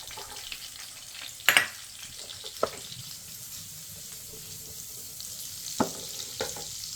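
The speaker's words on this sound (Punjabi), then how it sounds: "ਥੋੜਾ ਜਿਹਾ ਲਸਣ ਕੱਟਿਆ ਉਹਨੂੰ ਆਪਾਂ ਸੇਕ ਲਗਾ ਲੈਣਾ" Chopped garlic sizzles steadily in a pan for a vegetable pasta, with a few sharp clinks and scrapes of a utensil stirring it.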